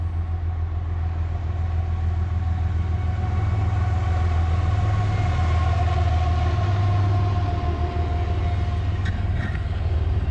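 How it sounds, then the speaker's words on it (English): A train rolling past at close range, a loud sustained low rumble of engine and wheels that stays constant throughout and swells slightly midway, with no speech. "Let you watch the train for a minute."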